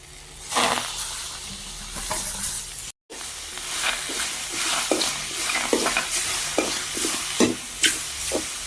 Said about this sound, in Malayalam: കുരുമുളകും മുളക് പൊടി ചേർത്ത് വെച്ചിരുന്ന കണവ ഇതിലേക്ക് ഇട്ടു